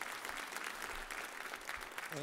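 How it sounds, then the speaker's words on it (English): An audience at a winter jazz concert gives a round of applause, a full, continuous crowd clapping with slight swells and a few voices mixed into it. "Let's give them another round of applause."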